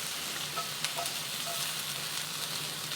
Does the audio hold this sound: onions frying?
yes